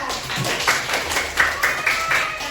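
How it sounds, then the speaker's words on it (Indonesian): Classroom audience claps after a pop ice making demonstration, a modest, uneven patter of individual hand claps at moderate volume, with some audible separate claps rather than a full roar. "Oke, beri tepuk tangan."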